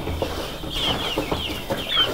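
Free-range village chickens cluck close by at feeding time, short repeated clucks and murmurs sounding every half second or so over a soft farmyard background.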